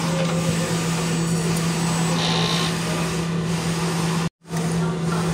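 A printer running a head cleaning cycle hums and whirs steadily at close range, a constant mechanical drone with a brief cutoff near the end, a voice speaking faintly over it.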